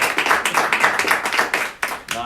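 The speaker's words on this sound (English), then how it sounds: "So give Demi a round of applause" A small group claps with brisk, rhythmic hand claps close by, in a short, even burst of applause that dips once near the end before picking up again.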